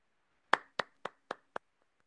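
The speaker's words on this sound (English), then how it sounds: "I had to applaud." Five sharp hand claps land in a quick, evenly spaced run, close and fairly quiet, each one snapping and dying away fast, with no voices underneath.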